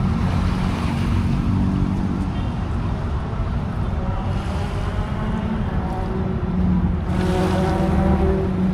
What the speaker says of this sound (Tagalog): Mukhang malakas na yung hampas ng alon dito